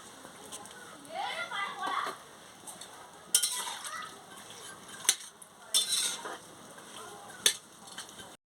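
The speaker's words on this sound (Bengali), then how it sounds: "একটু নাড়িয়ে দিয়ে" Potatoes and jackfruit boiling in a pot being stirred, with soft scraping and sharp metallic clinks of a spoon against the pot, quiet and intermittent under a voice speaking.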